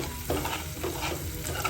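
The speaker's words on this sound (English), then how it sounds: "And I'm still cooking on high heat. And I'm still scraping the bottom of the kadai," Onions with ginger and garlic frying over high heat in a kadai while a spoon stirs and scrapes the bottom, steady sizzle beneath repeated scraping strokes, close and alone.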